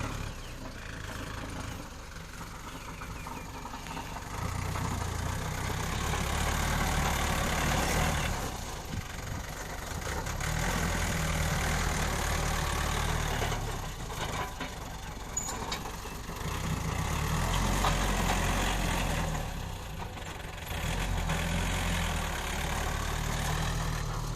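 A Kubota farm tractor's diesel engine idles nearby in a loud, continuous rumble that swells and dips slightly in level.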